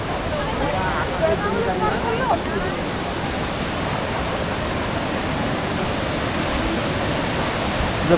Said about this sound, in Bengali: দেখুন মা গঙ্গার ধারা কি স্পিডে যাচ্ছে